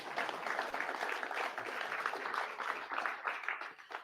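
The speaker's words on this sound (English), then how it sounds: "Give him a round of applause." Audience at an awards event giving a round of applause, a dense, continuous wash of clapping lasting several seconds, fairly distant and even, tailing slightly at the end.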